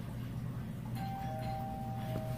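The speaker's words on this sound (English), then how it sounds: "somebody's ringing the doorbell, so now I gotta go answer it" A doorbell chimes once, a clear sustained tone that rings out over a low steady room hum, heard faintly and with no one speaking.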